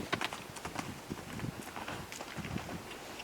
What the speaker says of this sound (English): And now I'm going to ask for canter.